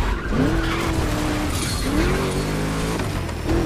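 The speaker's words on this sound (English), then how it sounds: "Just listen to that V8," A Ford Mustang V8 in The Crew Motorfest video game roars and rises through gears, with tires skidding and squealing; engine tone climbs steadily in loud, continuous passes without talk.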